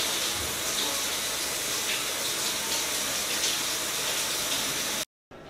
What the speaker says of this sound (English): You have no idea what it's like to shower at an airport